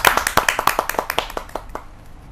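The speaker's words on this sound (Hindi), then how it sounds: "तो जोरदार तालियों के साथ हम स्वागत करते हैं नेहा चाचरा बहल चाहत जी" Audience at a kavi sammelan claps to welcome a poet, a run of distinct, fairly close claps that thin out and fade toward the end.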